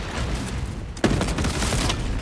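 Rapid turbo gun fire in a Warhammer 40k video game, a continuous rattling barrage with a sharp louder burst midway, set against dense battle noise.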